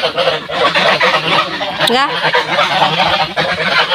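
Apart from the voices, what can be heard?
domestic ducks calling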